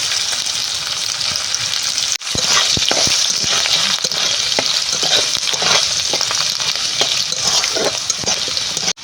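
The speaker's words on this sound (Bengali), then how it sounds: "আলুগুলো এই তেলের মধ্যে দিয়ে দেব গোটা জিরে দেব ফোড়নে শুকনো লঙ্কা আর তেজপাতা" Potatoes frying in oil with whole cumin, dried red chili and bay leaf over a village wood fire, a loud, steady close sizzle broken by a brief dropout and frequent clinks and scrapes of stirring.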